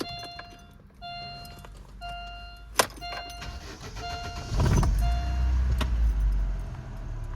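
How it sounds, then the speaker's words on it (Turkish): A Daewoo Nexia 2 car: a few electronic chime beeps and a jangle of keys, then the engine turns over and settles into a steady, close running rumble. "Mashinaning motorni saslarini eshitib ko'rsataman sizlarga hozir."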